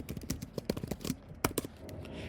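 Quick, light clicks of a computer keyboard as a command is typed, a short uneven burst of keystrokes close by and fairly quiet, with no speech over them.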